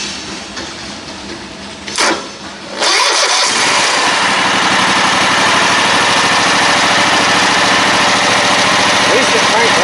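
An old White Outdoor riding mower engine, sitting unused for seven years, is jump-started: after a brief attempt and pause, it cranks and catches, then runs loudly and steadily close by, drowning out everything else.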